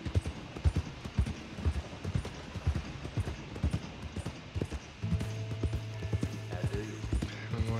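A stolen horse trots along in Red Dead Redemption 2, its hooves clip-clopping in an even rhythm under game sounds, joined near the end by a sustained tonal cue.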